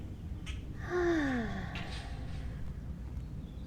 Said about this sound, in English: Open up your mouth and exhale.